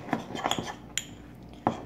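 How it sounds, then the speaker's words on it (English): A utensil scrapes and clinks against a pan while a lip scrub mixture is stirred, giving a few close, light metallic taps over about two seconds with no talking. "I'm just gonna keep on stirring."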